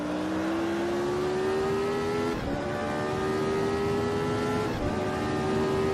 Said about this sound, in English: I can hear his engine now as he races towards that chicane.